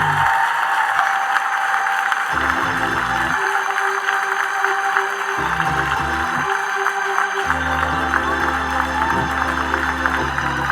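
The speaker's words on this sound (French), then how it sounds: "Ça mérite un gros applaudissement pour ça, mon Dieu, qu'a fait." Church congregation clapping during a sermon, a steady wash of applause running throughout, with a low sustained tone, likely an organ or keyboard, playing beneath in shifting chords.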